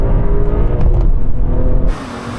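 A BMW M2 launching hard in a drag race, its engine roaring loud and close as it climbs through the revs, with a gear change partway through before the sound drops off near the end.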